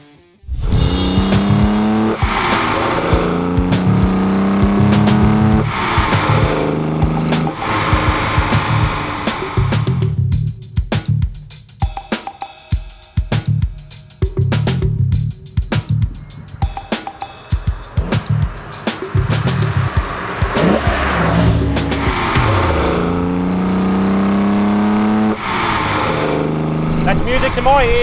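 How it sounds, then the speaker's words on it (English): Holden Torana LJ XU-1 race car on triple Weber carburettors, a loud raspy six-cylinder induction roar rising and falling through gear changes under acceleration, with someone talking over it. "The induction noise on this beast really got my heart racing."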